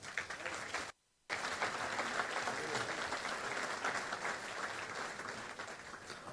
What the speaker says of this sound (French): Je pense qu'on peut les applaudir très fort parce qu'ils font du travail pour vous.